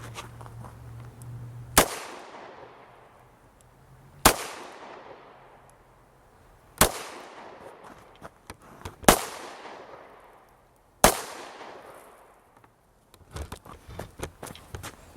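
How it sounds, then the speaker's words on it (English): Five sharp gunshots from a Ruger LCR 9mm revolver fired downrange, spaced about two to three seconds apart, each a loud crack with a short ringing decay, followed by faint handling noise. "So I'm just going to put 5 nice, easy, well-timed rounds downrange."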